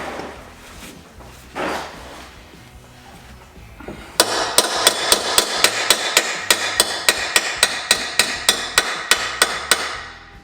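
Steady metallic hammer strikes on a part being driven into the wheel hub of a 2004 Subaru Forester XT, about three per second, ringing loud and close after a few quieter knocks at the start.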